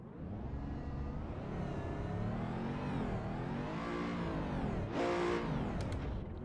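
Race car engine in the Assetto Corsa driving game, revving steadily with rising and falling pitch as it accelerates, loud and close, with a brief louder burst near the end.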